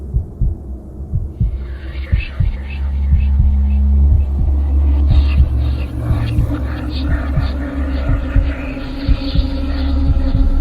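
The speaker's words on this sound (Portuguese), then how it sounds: "seu coração começa a bater mais forte" Heartbeat sound effect in a horror narration, a steady low thumping pulse that speeds up and grows denser over a droning hum, loud and continuous with no speech.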